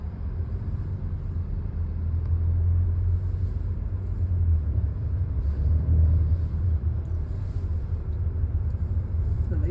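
A Hyundai i20 automatic rolls along a curving road, heard from inside as a low, steady engine and tyre rumble with no sharp events.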